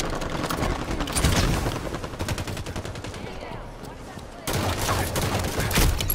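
Rapid gunfire in the video game Halo 5, dense bursts of automatic shots and a few heavier hits over a noisy battle background, continuing almost without pause.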